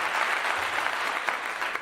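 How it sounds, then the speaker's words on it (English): A steady patter of applause from a small crowd fills a short stretch, even and unbroken, with no talk over it. "I want to give you a round of applause today."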